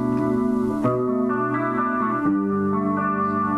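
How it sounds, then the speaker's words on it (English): Electric guitar chords ring out with a shimmering, wavering Boss chorus pedal effect, a few sustained strums changing chords, fairly close and clear. "This is my guitar, and here's with chorus."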